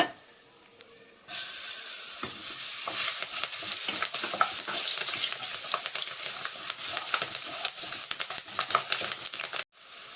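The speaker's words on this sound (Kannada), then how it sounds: "ಈಗ ನಾಲ್ಕು ಮೆಣಸಿನಕಾಯಿ ಹಾಕ್ತಾ ಇದ್ದೀನಿ" Green chillies dropped into hot oil seasoned with turmeric and asafoetida for capsicum bonda palya, a quiet start erupting into a loud, crackling sizzle that runs close and steady before cutting off abruptly near the end.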